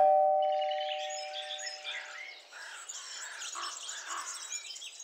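A single bright two-tone chime rings at the start and fades, followed by faint chirpy, birdlike sounds in the background.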